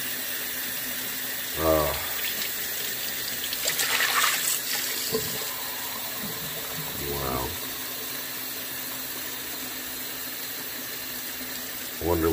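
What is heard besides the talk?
shower water running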